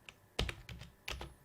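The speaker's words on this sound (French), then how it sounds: "On tape un premier mot et il suggère le suivant." Keys clack on a computer keyboard in three quick clustered bursts of typing, close and fairly quiet, with short pauses between them and no voices.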